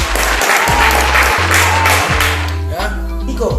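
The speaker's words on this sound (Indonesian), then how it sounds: "Tepuk tangan dulu untuk teman-teman Papua Barat" Audience applause for cadets from West Papua, a broad steady wash of clapping lasting the whole moment, loud and close, with low background hum underneath.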